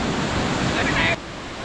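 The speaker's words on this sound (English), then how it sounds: "We're almost at the big waterfall." Broad, steady roar of the big waterfall at Plitvice Lakes, Croatia, rushing and close, with wind buffeting the microphone; the roar drops a little in level near the end.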